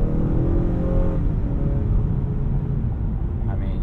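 A Honda Accord 2.0T Sport pulls hard under acceleration, its engine a steady, loud low rumble that rises in pitch from the cabin, with a voice talking over it.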